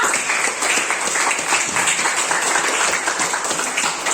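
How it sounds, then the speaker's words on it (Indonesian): A classroom of students claps for their classmates after group presentations, producing dense, sustained applause that stays loud and even throughout. "Kita beri aplaus dulu untuk kita semua."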